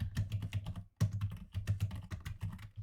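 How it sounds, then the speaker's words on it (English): Rapid clicking of a computer keyboard as a chat message is typed in a game, close and fairly quiet, in quick bursts with one brief pause, no voices. "Type your message."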